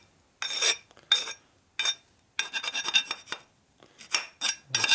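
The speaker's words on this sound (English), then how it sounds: "Want to deburr the edge a little bit though." The edge of a 1972 Harley-Davidson Sportster ironhead engine case being deburred, heard as several short, bright rasping strokes in quick bursts with brief pauses between them, close up and without speech.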